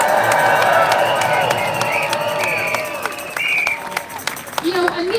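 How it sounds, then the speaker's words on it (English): A crowd at a university union rally applauding and cheering, dense clapping that fades over several seconds while voices and shouts stay in the mix, loud and close. "Give yourselves a round of applause."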